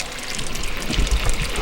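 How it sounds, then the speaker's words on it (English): Cream poured into hot caramel just taken off the heat, giving a steady, loud foaming gush and bubbling hiss with a few low burbles. "And we're gonna pour this in. Oh, yeah, it's gonna start foaming, but don't worry if it foams."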